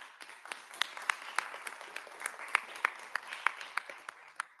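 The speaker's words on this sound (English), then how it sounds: "I'm gonna clap it up" Sparse applause at a Ghana Independence Day teaching artist event, a small group clapping with distinct individual claps in an irregular rhythm, fairly close and moderately quiet.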